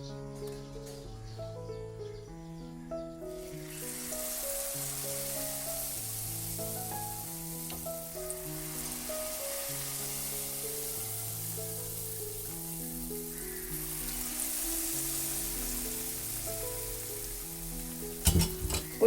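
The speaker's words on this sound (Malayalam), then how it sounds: "ഇങ്ങനെ നമുക്ക് മുഴുവനും ഇങ്ങനെ പൊരിച്ചെടുക്കാം കേട്ടോ" Banana fritters (pazham pori) deep-fry in oil with a steady, hissing sizzle under melodic background music.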